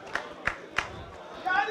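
A few spectators at a football match give a small round of applause: three distinct claps spaced evenly, then a brief denser patter, with commentary running over it.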